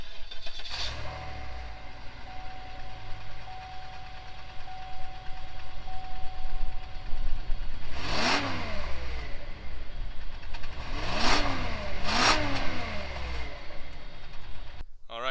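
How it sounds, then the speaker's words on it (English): A 2010 Cadillac DTS limousine's Northstar engine idles, then revs sharply three times through its quad exhaust tips. Each blip is a loud, rising roar that quickly falls back to idle. "let's see if we can get a good sound out of the quad exhaust tips"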